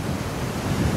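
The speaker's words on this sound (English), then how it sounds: "it's too windy" Strong wind gusts buffet an outdoor microphone near water, a loud continuous rumbling roar that swells slightly toward the end, with no voices.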